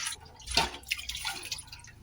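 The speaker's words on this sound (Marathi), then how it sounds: "थोडंसं आता पाणी टाकते कुकरमध्ये" Water is poured into a pressure cooker holding dal, making a short close splash followed by lighter dripping and trickling sounds.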